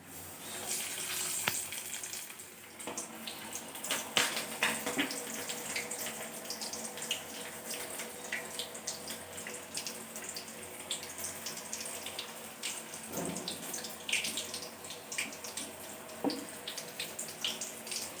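Chilli bajji fry in hot oil with a steady close hiss and crackle, moderately quiet, with a few louder pops scattered throughout and no talking.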